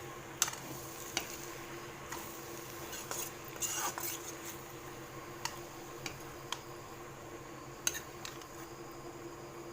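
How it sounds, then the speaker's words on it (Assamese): Pumpkin and boroli fish stir-fried over low heat in a pan, a quiet steady hiss broken by irregular clicks and scrapes of a spatula against the pan. "এইখিনি কম জুইত লৰাই ভাজি ল'লোঁ মই অলপ।"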